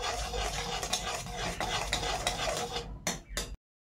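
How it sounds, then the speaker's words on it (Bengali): Thickening milk for bread malai roll stirred in a pan, a continuous scraping and clinking of utensil against metal with quick irregular strokes, close and fairly quiet, ending abruptly. "দিয়ে ভালো করে নেড়ে চেড়ে নেওয়া হচ্ছে"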